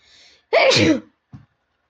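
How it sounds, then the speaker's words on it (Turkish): A single loud, close human sneeze with a short sharp burst, preceded by a faint intake of breath and followed by a brief small sound, alone with no talk. "ha çok güzel hapşırıyorum arkadaşlar"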